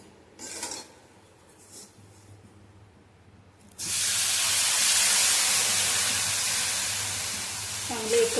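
Milk poured into a pan of roasted vermicelli for a sweet dish, a sudden loud hissing sizzle that starts partway through and holds steady after a few quieter clinks and rustles.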